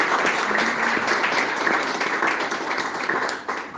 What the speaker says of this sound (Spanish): ¿Quién le da un aplauso al Señor?